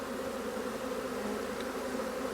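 Honeybees buzz steadily and closely during a hive inspection and swarm capture, a continuous droning hum with no pauses and no voices.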